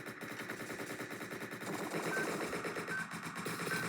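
Rapid automatic gunfire in the Entry Point video game, sustained machine-gun bursts crackling continuously at moderate volume with small electronic beeps.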